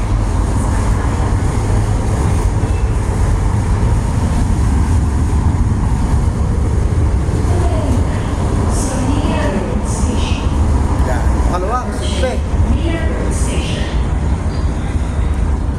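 Interior rumble of a nearly empty LRT light rail car riding at night from PITX toward Fernando Poe Jr station, a loud, continuous low drone with rattles and squeals, and a voice talking over it at times.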